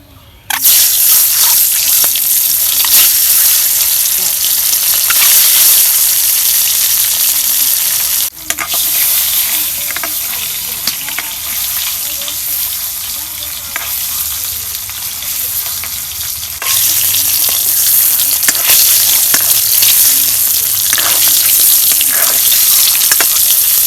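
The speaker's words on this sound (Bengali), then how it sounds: "এখন আমি কড়াইতে তেল দিব তেল গরম হলে ডিম ভাজবো" Loud, steady sizzling of eggs seasoned with turmeric and salt frying in hot oil, with occasional scraping of a utensil in the wok and a brief dip partway through.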